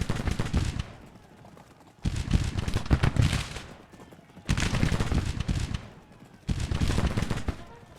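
Infantry musket fire in a Civil War skirmish game, heard as four loud, rolling volleys of many crackling shots, each lasting about two seconds and separated by quieter pauses.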